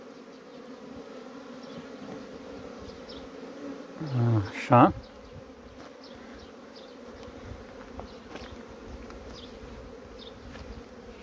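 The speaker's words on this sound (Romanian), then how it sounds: "Și aici zboară albinele." Honeybees flying around hives at an apiary in the Carpathian mountains during the first nectar flow, a continuous soft buzzing drone with a loud close pass of a bee near the microphone midway, plus a brief spoken word.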